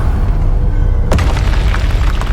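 A Confringo fire spell blast in Hogwarts Legacy, a sudden loud booming explosion that hits midway over steady game ambience and rolls out with a rumbling tail.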